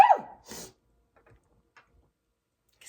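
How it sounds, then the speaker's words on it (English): One sharp human sneeze bursts out at the start, followed by a short breathy sound and then near silence. "I'm going to sneeze."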